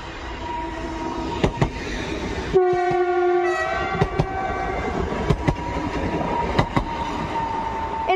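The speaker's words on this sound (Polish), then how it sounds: "Mamy już kolejny pociąg Intercity." An intercity passenger train rolls past at Katowice Zawodzie in winter with a steady rumble and rhythmic clacks, and a loud horn blasts briefly partway through.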